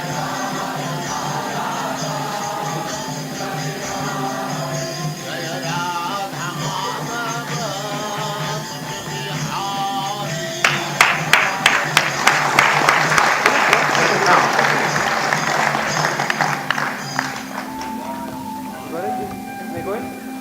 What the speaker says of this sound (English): Now, please use this applause.